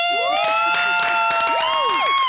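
A studio audience of women cheers with loud, high whooping shouts on a French TV talk show, a dense burst of crowd voices filling the whole moment.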